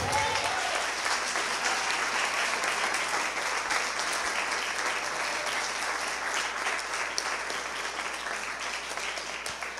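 A church congregation applauds, a loud continuous wash of clapping from many hands that fills the whole span without pause.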